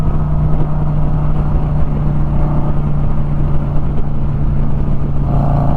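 A Harley-Davidson motorcycle engine runs loud and close with a steady, rumbling idle that lifts slightly near the end, no talking.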